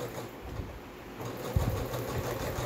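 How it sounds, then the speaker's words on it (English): A sewing machine stitches steadily along the edge of blouse fabric, producing a low, continuous mechanical hum with a slightly louder patch partway through. "So I am just putting a stitch on the edge of this fabric, right around, to make sure that it doesn't ravel any further."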